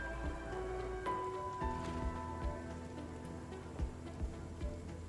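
Rain falling on the domes in the video game Surviving Mars, a steady soft patter with scattered louder drops over a low hum and faint tonal game music.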